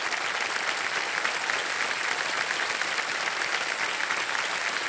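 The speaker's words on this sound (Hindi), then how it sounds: "तालियां बज जाएं इनके लिए" Studio audience on a televised quiz show breaks into loud, sustained applause, a dense steady wash of clapping with no talk over it, lasting the whole stretch.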